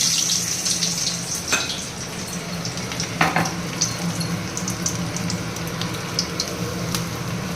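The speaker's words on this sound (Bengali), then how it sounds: "তেল বসিয়েছি আগে আলুটা দিয়ে নিই" Potatoes go into hot oil and fry with a continuous loud sizzle, broken by a few sharp crackles and spits.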